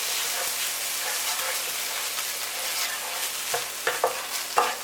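Korma curry paste stirred into onions frying in a pan, a steady close sizzle with spoon scrapes growing louder and more frequent toward the end.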